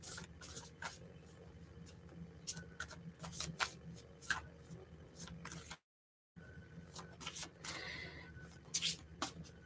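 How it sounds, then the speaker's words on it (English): Oracle cards are shuffled by hand in a quiet room, a run of soft, irregular papery flicks and riffles with a brief silent gap partway through before the shuffling resumes. "So I'm going to pull an oracle card from the magical herb."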